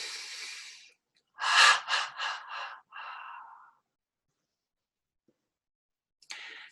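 During a guided meditation, a person draws a series of audible breaths: a long inhale, then several stepped, shuddering breaths in quick succession, followed by a softer release, close and clear against silence, with a brief noise at the end.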